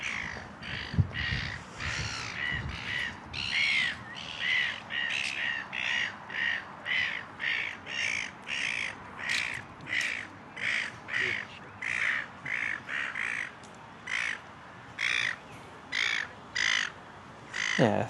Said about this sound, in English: There is a magpie and a seagull as well.